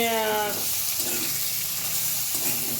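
Green chillies roast in a hot pan with a steady, soft sizzle and hiss running throughout, joined by a few brief tonal hums, with no talking over it.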